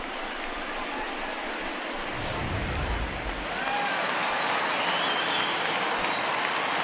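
A home crowd cheers in the baseball video game MLB The Show 19 during an Angels versus Athletics game. The broad, steady crowd roar swells after a couple of seconds and holds loud to the end, with no voices over it.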